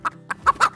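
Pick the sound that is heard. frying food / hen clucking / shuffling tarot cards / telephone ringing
hen clucking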